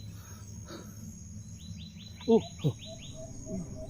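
A bird gives a couple of short harsh calls in the night, close by, with a person murmuring quietly and faint insects in the background.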